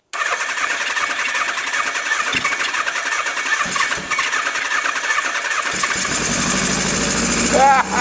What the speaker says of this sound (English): we might still be able to hear it run on gas